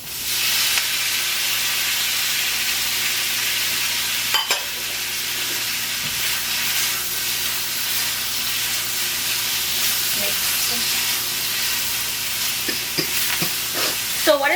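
Shrimp and vegetables sizzle and fry in a single pot on an electric stove while being stirred, a steady broadband hiss with occasional scraping clinks from the utensil, close and fairly loud, with no talking.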